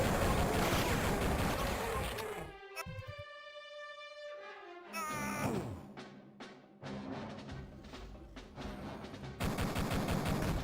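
Enemy pistols fire in Duke Nukem 3D on a user-made map of a bridge between two islands: loud, close bursts of sharp shots in quick runs, broken by brief quiet gaps.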